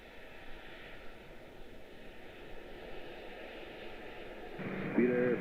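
At Washington Dulles, an airliner lands on runway 1 center with a steady, distant engine roar and rumble that swells louder near the end.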